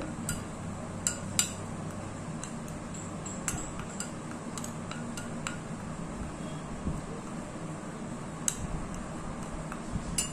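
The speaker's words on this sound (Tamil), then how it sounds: "சிவப்பு சந்தன பொடியும் சரி நமக்கு மஞ்சத்தூளும் சரி நல்ல ஒரு அருமையான பக்குவத்துல மிக்ஸ் ஆயிட்டு இருக்கு" Red sandalwood powder and turmeric are mixed in a bowl, a close series of light scraping taps and small clinks from a spoon against the bowl over a soft steady background hum.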